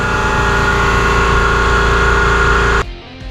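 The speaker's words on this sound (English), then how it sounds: "the compressor was going off" A nearby air compressor in a workshop where an RV-10 kit aircraft is being built, running loud and steady with a constant motor drone, then cutting off abruptly near the end.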